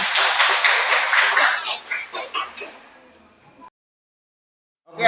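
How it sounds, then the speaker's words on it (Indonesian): A group of schoolchildren in a classroom clapping together, a steady burst of applause that ends in a few rhythmic claps and fades to silence, then a brief noise at the end. "Tepuk tangan untuk kalian semuanya."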